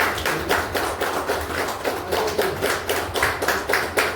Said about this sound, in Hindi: ताली बजाने